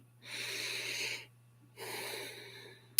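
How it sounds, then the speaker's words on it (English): A slow, deep breath is taken during a guided meditation: a long airy inhale, a pause, then a long exhale. The breathing is close and soft, with no talking over a faint low hum. "let's take one last deep,"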